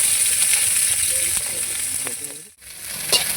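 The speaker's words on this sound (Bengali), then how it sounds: "ফুলকপিটা ভেজে নেব, হালকা একটু ভেজে নিয়ে তারপর অন্য দেবো" Cauliflower frying in hot oil in a wok, a steady bright sizzle with crackling pops and a few clinks of stirring, close by, dipping briefly before the hiss resumes.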